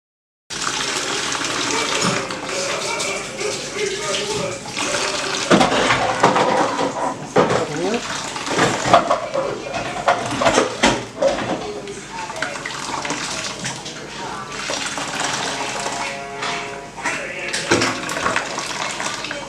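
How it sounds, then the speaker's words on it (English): Fresh coconut milk is poured through cheesecloth while making cold-pressed coconut oil at home, a steady wet splashing and trickling that runs continuously without talk. "just pour it directly into the cheesecloth to get the milk out"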